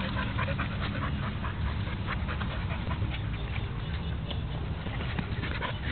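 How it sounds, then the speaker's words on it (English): A dog pants steadily and close by for the whole stretch, with soft pattering and shuffling as it moves around indoors; no one speaks. "He's such a good dog."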